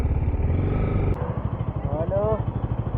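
An Apache RR 310 motorcycle rides along, its engine a low pulsing drone that shifts pitch through the clip, heard under someone talking throughout.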